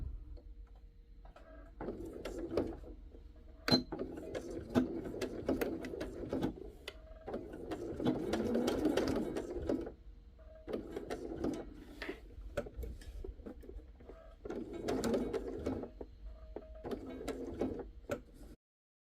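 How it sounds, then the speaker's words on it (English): Sewing machine stitching a small patchwork brooch in a spiral from the center outward, with bursts of rapid mechanical whirring and ticking separated by short pauses, close and fairly quiet, with no talk. "I think I will just start from the center and sew it like a spiral."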